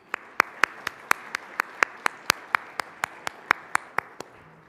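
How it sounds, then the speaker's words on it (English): Steady, evenly spaced handclaps, about three per second, crisp and close, with no talking. "let's give all of our partners a huge round of applause"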